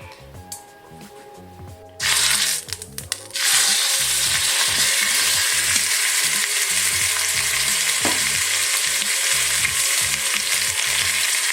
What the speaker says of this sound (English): I'm just going to brown it for about a minute or two on each side